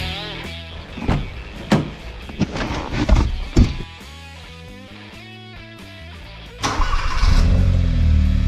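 A 2016 Hyundai Veloster Turbo starts up after a few clunks and electric whirs, then settles into a steady engine hum close by.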